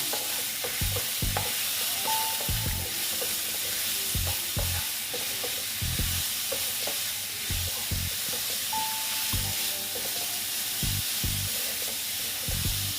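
Radish ghanto frying in a pan is stirred with a spatula, giving a run of rhythmic scraping knocks over a constant sizzle, close up and with no voices.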